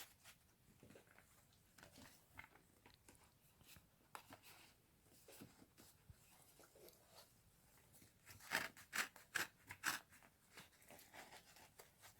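A knife cuts open the packaging of a coin booklet from the National Bank of Ukraine, for a 2023 5-hryvnia coin. It makes faint scratchy scraping and crinkling, with a louder cluster of sharp crunchy cuts near the end.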